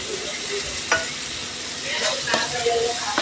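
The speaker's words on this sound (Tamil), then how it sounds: "அந்த இஞ்சி பூண்டு பச்சை வாடை போகிற வரைக்கும் நல்லா வதக்கி விட்டுட்டே இருக்கலாங்க" Ginger and garlic sautéing in hot oil in a pan, a steady close sizzle with a few sharp scrapes of a spoon stirring through it, no talking.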